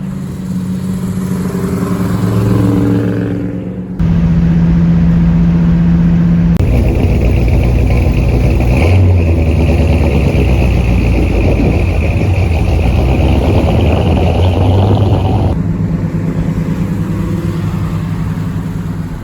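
Vintage Plymouth cars, including a '56 and a '59 Plymouth, cruise down the road, their engines giving a steady loud rumble with wind and road noise that swells as they accelerate.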